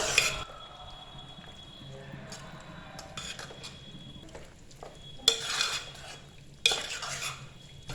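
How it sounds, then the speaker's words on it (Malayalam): Chicken curry being stirred in a pan after roasted coconut paste is added, with steady scraping and clinking of a spoon against the pan, a soft sizzle underneath, and two louder knocks toward the end. "നന്നായിട്ടൊന്ന് മിക്സ് ചെയ്ത് കൊടുക്കാം."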